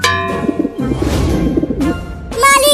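Cartoon pigeons coo in a few short, rolling, throaty calls, close and fairly loud, mixed with other animated sound effects.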